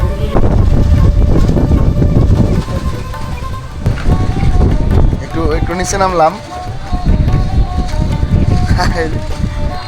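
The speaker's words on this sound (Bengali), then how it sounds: "বাতাস উঠতেছে একটু" Gusty wind rumbles across an open microphone outdoors in changeable rainy weather, loud and continuous with low buffeting, while someone talks over it throughout.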